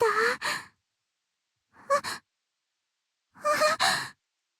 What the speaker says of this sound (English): I hear her gasp in astonishment.